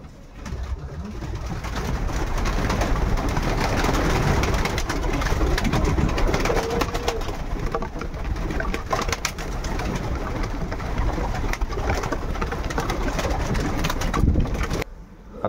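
Pigeons in a racing pigeon loft coo steadily in a dense, continuous chorus, with many birds close by and overlapping and no talk heard.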